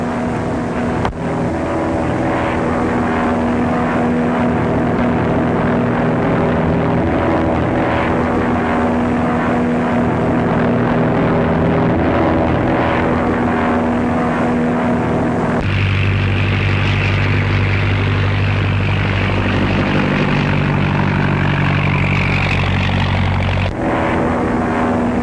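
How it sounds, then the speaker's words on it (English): A propeller airplane drones overhead in a 1935 crime drama, a loud, steady engine hum with a strong low throb that deepens and shifts in pitch about two-thirds of the way through as it passes. "I know the plane"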